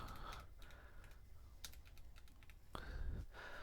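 Keys clatter on a computer keyboard while a name and password are typed in, a quick, uneven run of close taps with short pauses and a heavier burst of strokes near the end.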